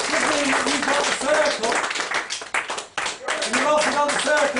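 Round of applause from a live comedy mind-reading show audience, lively clapping and cheering with a voice talking over it throughout, the clapping swelling, dipping briefly, then surging again.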